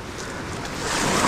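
Ocean waves on the shore at Palawan surge in a broad, roaring wash of noise that builds louder toward the end, with wind buffeting the microphone.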